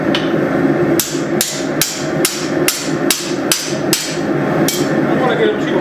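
A hammer folds hot steel over while forging tomahawks, landing about ten sharp, ringing blows at a steady pace, close and loud, over a constant forge roar.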